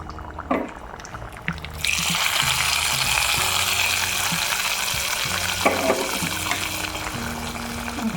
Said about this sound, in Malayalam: ഇനി നമുക്കിതിലേക്ക് കുറച്ച് കടുക് വറുത്ത് ചേർക്കാം